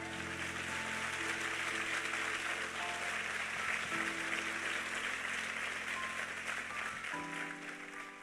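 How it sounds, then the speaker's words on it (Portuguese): A church congregation applauds in a continuous, steady wash of clapping, fairly loud and unbroken, with sustained musical tones underneath. "Vamos aplaudi-lo bem forte."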